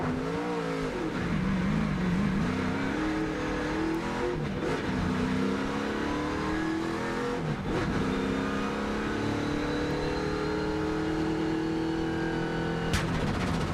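A NASCAR race car at the 2007 Nationwide Series Meijer 300 fires up and revs loudly, the engine rising and falling through repeated throttle blips, close and dominant with no voices.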